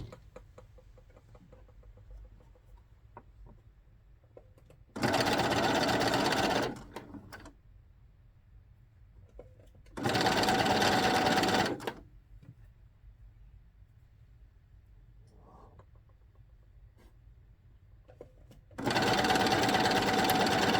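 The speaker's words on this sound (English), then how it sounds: "stitch this other lace in there as well" A sewing machine stitches lace onto a dress in three loud, steady bursts of about two seconds each, separated by quiet pauses; no one speaks.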